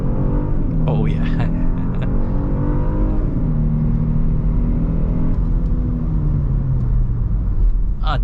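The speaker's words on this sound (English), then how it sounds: "G80 on the highway and we'll see how it does. It is in sport mode at the moment." Genesis G80 3.5T in sport mode accelerating on a highway, with an eight-speed automatic; a steady engine drone rises in pitch, dips at a shift, then climbs again over road rumble, with someone talking over it.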